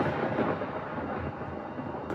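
Rolling thunder right after a lightning strike during a stormy night, a dense continuous rumble that stays loud for the whole stretch with no voices over it.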